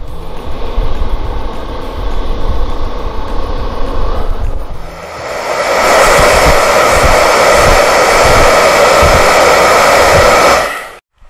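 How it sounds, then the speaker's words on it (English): A toy blow dryer whirs in a steady, close, loud drone, quieter for the first few seconds and then rising to a fuller, brighter roar before cutting off abruptly near the end. "It's a blow dryer. Oh, let's try it."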